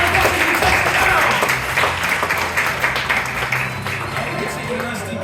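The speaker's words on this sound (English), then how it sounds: "ladies and gentlemen, give their Superman a round of applause" A comedy hypnotist show audience at the Faversham Fringe applauds for about five seconds. The clapping is loud and dense at first, then eases slightly, with crowd noise and voices mixed underneath.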